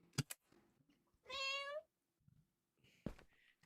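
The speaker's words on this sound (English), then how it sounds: "Loud cat." A single loud, drawn-out cat meow rises clearly between faint clicks and quiet background noise during a Minecraft play session.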